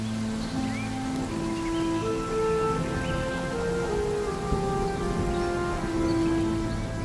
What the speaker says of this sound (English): Just at the shift changeover, rain sets in.